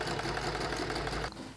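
A sewing machine stitches a garment seam in a fast, steady mechanical patter, quiet and close, then slows and stops as the bobbin thread runs out.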